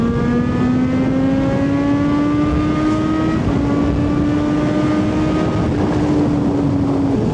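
A supercharged Kawasaki Z H2 motorcycle engine hums steadily while riding on winding mountain roads, a loud continuous tone that rises slowly in pitch with a brief dip midway, with wind noise running underneath.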